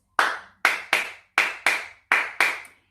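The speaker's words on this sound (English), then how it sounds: "We're going to do some claps. We call them in Spanish palmas." Sharp, close hand claps in an uneven palmas pattern, accompanying a Chacarera folk song. Seven crisp strikes, some spaced singly and others in quick pairs, each ringing briefly with silence between them.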